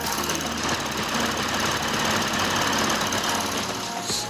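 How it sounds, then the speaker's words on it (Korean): A Lexus car engine idles with the hood open, giving a steady, smooth, even hum recorded up close with no talking. "영상으로 엔진 소음 한번 담아보도록 하겠습니다"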